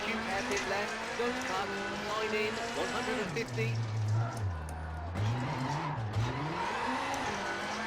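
A rally car in WRC 6 swings through a handbrake turn, its engine note dipping and rising with tire scrabble on loose surface while someone talks over it.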